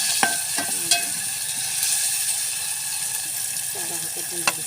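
Onion and tomato fry in a pan for a samosa filling. A soft, steady hiss plays throughout, broken by a few sharp clicks and taps from stirring.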